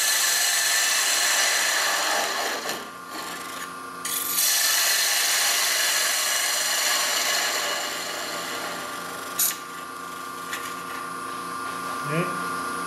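Wood on a lathe as a small original tenon is turned off, a steady continuous scraping and rasping cut with brief pauses and shifts, fairly close and moderately loud, with no talking.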